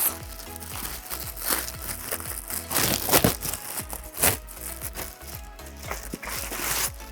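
Plastic packaging on a Charles & Keith handbag crinkles and rustles in irregular bursts close by, with sharp crackles and crunches as it is handled and pulled apart.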